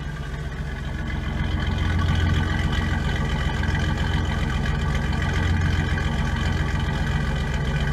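An old Toyota FJ45 Land Cruiser engine idles cold with a low, throaty, steady rumble, loud and close throughout, with no talking.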